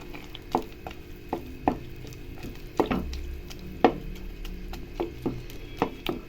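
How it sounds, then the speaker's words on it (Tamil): Bread halwa being mashed with a ladle in a pan, giving a steady run of soft, close knocks and scrapes at an irregular pace, with no voices. "இது மாதிரி கரண்டியிலே நல்லா மசிச்சு விடுங்க."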